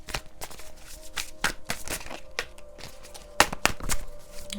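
Tarot cards being shuffled by hand, a quick irregular series of crisp snaps and riffles, close and moderately quiet, with no speech over them.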